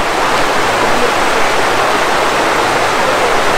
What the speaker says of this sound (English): Because that waterfall, there's steam coming off of it.